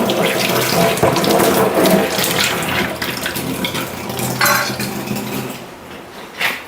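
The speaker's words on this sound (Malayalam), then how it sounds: "ആദ്യം നമുക്ക് ഇല ഒന്ന് കഴുകി മാറ്റി വയ്ക്കാതെ" A leaf is rinsed under a running tap at a kitchen sink before making ottada, with loud close water splashing and gushing that shifts as the leaf is moved and fades slightly near the end.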